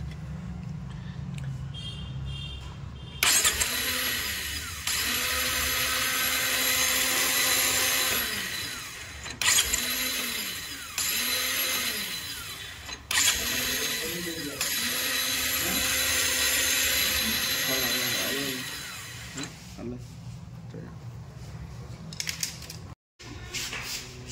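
Pulsar 220F motorcycle self-starter turning without engaging the magnet, repeated loud whirring bursts with rising and falling whine, separated by short pauses and clunks.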